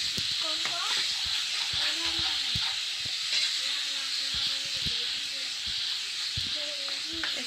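Steady sizzling hiss of a chicken gravy base frying in a nonstick pan runs throughout, with faint clinks and stirring sounds and a low voice underneath.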